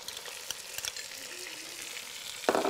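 Already-cooked chickpeas fry in melted butter with a steady, close sizzle and soft crackle, a brief stirring clatter, then a sudden louder burst of hissing near the end.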